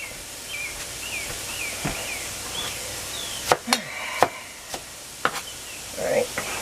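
A not-very-sharp kitchen knife chops vegetables for chicken vegetable soup on a board, a handful of sharp, irregular knocks standing out over a faint background with scattered light clatter.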